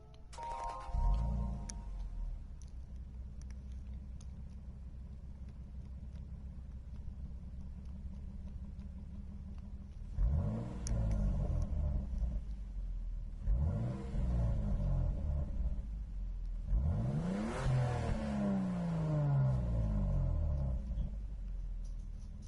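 A Toyota Supra Mark IV in Gran Turismo 7 idles with a steady low rumble, then revs sharply in three rising bursts, the engine climbing and falling loudly and close with no talk.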